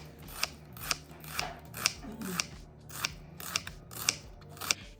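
Tomato and potato being cut for cooking, a steady series of about ten crisp, close knife strokes spaced roughly half a second apart, fairly quiet, with no one speaking.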